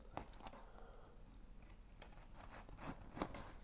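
Scissors snipping through vinyl upholstery material for a GMC motorhome interior, a few quiet close cuts in a brief uneven run with no talking.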